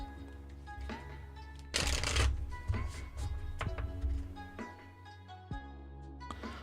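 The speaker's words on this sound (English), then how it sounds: "I'm being told to do this and shuffle again." Tarot cards riffle and shuffle in several bursts, with a loud flurry near the start and softer shuffles after, over steady background music.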